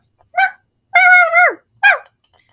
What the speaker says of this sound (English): The dog barked again